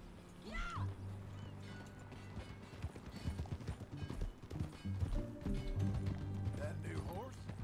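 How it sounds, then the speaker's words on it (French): A horse gallops in Red Dead Redemption II, with steady clip-clopping hooves running throughout and a couple of neighs. Game music and ambience play underneath, and someone speaks over it. "C'est un nouveau cheval."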